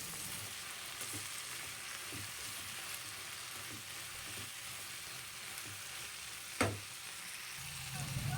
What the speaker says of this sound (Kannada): ಕೊಬ್ಬರಿನೂ ಅದ್ರ ಜೊತೆಗೆಲ್ಲ ಚೆನ್ನಾಗಿ ಮಿಕ್ಸ್ ಮಾಡಿಕೊಂಡು 1 ನಿಮಿಷ ಫ್ರೈ ಮಾಡ್ಕೊಳ್ಳೋಣ